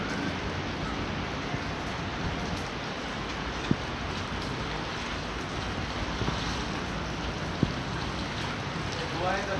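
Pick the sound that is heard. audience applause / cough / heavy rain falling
heavy rain falling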